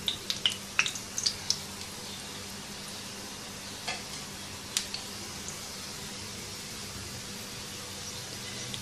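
Frozen shami kababs fry in a pan over low heat and give a steady soft sizzle. A few light clicks and scrapes sound early on, then one or two faint taps as the frying goes on.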